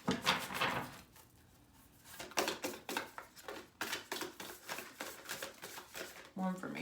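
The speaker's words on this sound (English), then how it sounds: "let's pull some more cards here and see exactly what Spirit wants us to know" Tarot cards are shuffled and pulled from the deck in a dense run of papery riffling bursts, followed by irregular sharp flicks and slaps, with a voice speaking through much of it.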